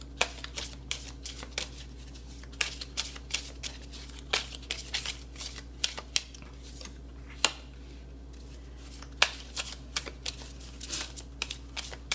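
Tarot cards being shuffled by hand during a love reading, a steady run of crisp riffling snaps and soft slides with irregular pauses, close and fairly quiet, no voices.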